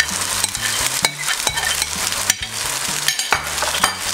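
Beaten egg and rice frying in a pan while being stirred, with a soft steady sizzle and repeated scraping and tossing strokes, set against faint background music.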